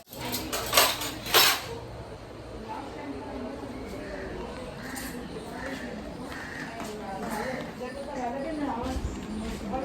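Spoons and dishes clatter in a busy home kitchen, with a few sharp clinks early on and then a steady low rattle of crockery while people talk in the background.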